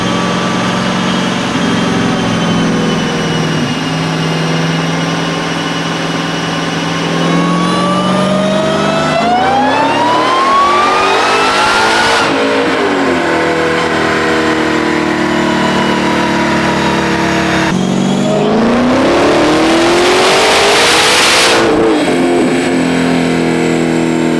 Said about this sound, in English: we should be able to do a wide open throttle or full pull